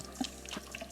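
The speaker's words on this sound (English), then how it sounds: "We are just going to rinse under cold water," Cold tap water runs steadily over tomatoes in a sink, a continuous close splashing stream with small irregular spatters.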